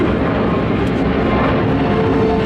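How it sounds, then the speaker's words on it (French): An airplane performing a go-around at the Paris Air Show makes a steady, loud, close engine roar that stays constant throughout with no pauses. "Une remise de gaz, juste pour aller se poser sur l'autre piste"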